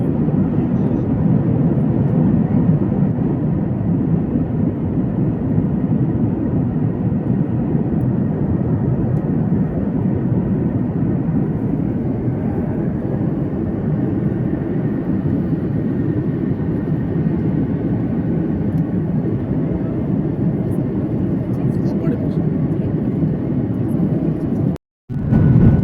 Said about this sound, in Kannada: ಫ್ಲೈಟ್ ಬಂತು, ಚಂಡೀಗಢ ರೀಚ್ ಆಗ್ತಾ ಇದೆ.